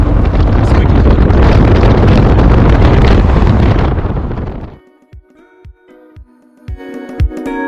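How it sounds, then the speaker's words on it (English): Loud, roaring wind buffets the microphone for several seconds on a drive between Lima and Trujillo, then cuts off abruptly, leaving quieter thumps and rattles. "it's so windy"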